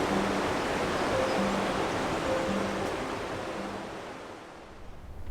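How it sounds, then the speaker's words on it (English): Steady broadband rush of flowing water, a continuous river roar close by beneath towering cliffs, with no voices. "The sound of the river, the towering cliffs, the endless beauty everywhere you turn."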